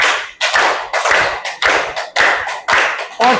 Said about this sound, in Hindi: केवल 10 ताली बजाइए